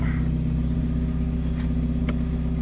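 A car engine runs in first gear at the clutch biting point, a steady low droning hum close by with an even tone and a couple of faint clicks, no revving surge.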